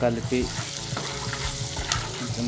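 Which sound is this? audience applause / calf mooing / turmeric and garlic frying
turmeric and garlic frying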